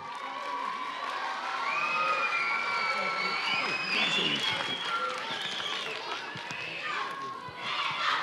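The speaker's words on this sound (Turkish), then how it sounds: "arkadaşlar kuvvetli bir alkış alabilir miyiz?" A lively audience at an award ceremony cheers and shouts continuously, with scattered clapping mixed into the noise and children's voices rising above it.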